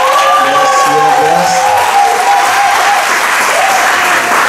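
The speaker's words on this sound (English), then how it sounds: "Let's also welcome them with a big applause." A large crowd applauds loudly and continuously at a 2023 culture night event, the dense clapping filling the room throughout.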